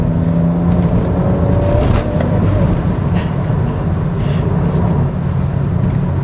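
BMW 335i Coupe E92 Stage 2 tuned to 420 BHP driving by, a loud steady engine roar with a rising tone around the middle and deep low rumble, no talk.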